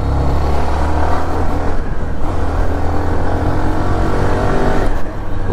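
Hero Xtreme 125R motorcycle being ridden, a steady, loud engine drone with strong low rumble that holds throughout with slight surges, dipping briefly near the end.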